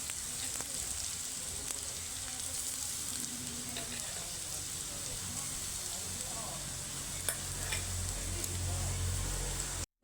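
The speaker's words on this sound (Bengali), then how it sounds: "পেঁয়াজটাকেও একটু ভেজে নেব" Onion and grated carrot frying in a pan for momos, giving a steady close sizzle with occasional stirring scrapes, while a person talks over it.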